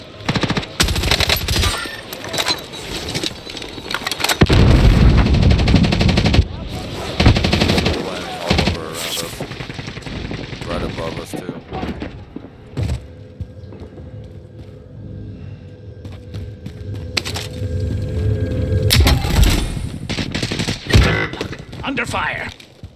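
Rapid machine-gun bursts and gunshots from the Call of Duty Modern Warfare video game, loud and dense in clusters with rumbling gaps between, and voices calling out over the firing.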